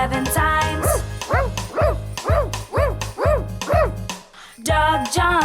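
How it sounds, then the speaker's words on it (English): A cartoon dog barks seven times in a quick, even series of loud, bright, high-pitched yaps, with a short pause before the last one. "Dog barks 7 times."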